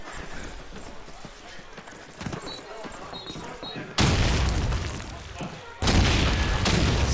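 A grenade blast in a competitive shooter match rips in loud and close, followed moments later by a second heavy burst, after a quieter stretch of footsteps and scattered gunfire.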